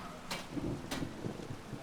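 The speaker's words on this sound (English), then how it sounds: "Turning into a true storm now." Rain pours during a thunderstorm in the video game Skyrim, with a steady downpour and two sharp crackling thunder bursts close together over it.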